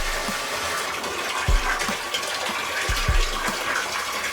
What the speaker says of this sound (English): I fill up this garbage can with water.